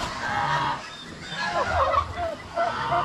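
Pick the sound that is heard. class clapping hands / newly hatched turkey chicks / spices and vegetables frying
newly hatched turkey chicks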